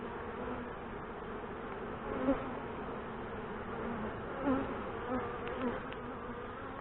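Honey bees buzz as a dense, continuous hum while a hive is opened and inspected, fairly quiet and steady with a few brief louder swells from individual bees passing close.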